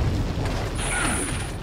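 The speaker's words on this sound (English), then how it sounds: "Another grenade." A grenade explosion in the video game Resident Evil 4, heard as a sustained loud, broad rumbling blast with a hissing tail throughout the short clip and no talking.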